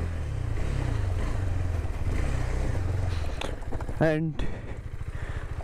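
KTM Duke 390 motorcycle riding off-road, its engine droning steadily at close range, with a brief spoken word partway through.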